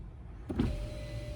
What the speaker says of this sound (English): and you'll see that the window is closing now